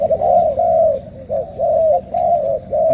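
Repeated cooing of a caged songbird being handed over to a buyer, a series of close, sustained tonal phrases in a steady rhythm with brief gaps between them, no talking.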